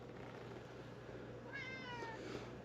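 Pet cat indoors at home giving a short series of soft meows, quiet and close, over a low background hum.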